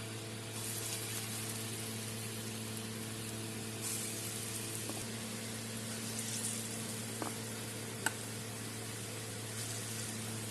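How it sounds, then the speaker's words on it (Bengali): Lentil fritters (daal bora) in a kadai give off a faint, steady hiss of frying oil under a constant low hum, with a couple of soft clicks and no talking. "এখন বড়াগুলো ভেজে নিব।"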